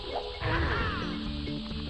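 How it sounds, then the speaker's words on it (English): Mario gets smashed in Super Mario 64 (3D All-Stars) in Shifting Sands Land: a loud, close crash with a heavy low thud and a sweeping descending tone, over the game's steady background music. "Oh, I'm gonna get smashed."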